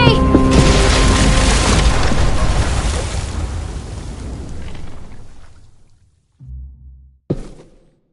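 Bomb going off in The Walking Dead video game, a massive roaring blast that rumbles and slowly fades over several seconds, then gives way to a short low tone and a sharp final thud.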